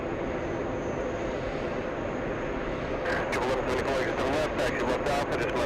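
Etihad airliner taxiing at JFK airport, a steady broad jet-engine rumble that swells slightly louder partway through, with a voice talking over it.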